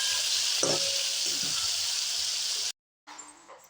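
Tomatoes added to fried green chillies in a pan for Mumbai-style pav bhaji, a steady loud sizzle with a couple of stirring scrapes, then a brief gap and quieter frying.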